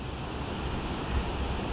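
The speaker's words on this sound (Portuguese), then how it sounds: "Eu não sei se dá pra pegar o áudio bacana aqui da água caindo" Falling water recorded outdoors on a GoPro camera: a dense, continuous roaring wash of water mixed with wind buffeting the microphone, steady and fairly loud throughout, with no voices.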